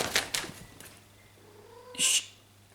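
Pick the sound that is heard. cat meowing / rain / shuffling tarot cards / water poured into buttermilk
cat meowing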